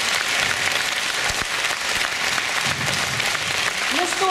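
An audience at a stage concert featuring a harmonica accordion player applauds, a dense continuous wash of clapping throughout, with a brief voice surfacing at the end.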